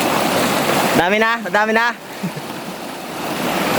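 Strong flowing water in a rural province gives a loud, continuous rush throughout, with a person briefly asking a short question over it.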